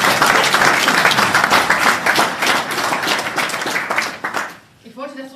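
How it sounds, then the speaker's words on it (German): Audience applause in a church during a Reformed congregation's worship service, dense continuous clapping from a crowd that fades away at the end as a voice begins to speak. "Das können wir eigentlich auch nochmal mit einem dicken Applaus hinbekommen für unsere Band."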